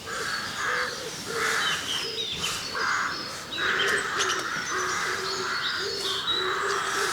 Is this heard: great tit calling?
yes